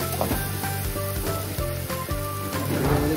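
Tomatoes sizzling as they go into browned onions in a little oil for a spicy village-style chicken curry, a steady close crackle with some stirring scrapes.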